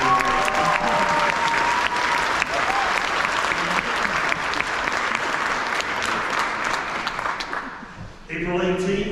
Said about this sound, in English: Let's give the students another big round of applause